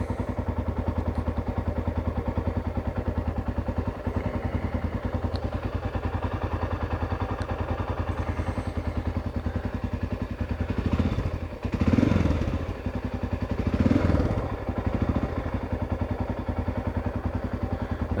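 A Honda XR600 motorcycle engine idles after carburetor jet tuning, a steady, even thumping idle close by, with a couple of brief throttle blips near the end.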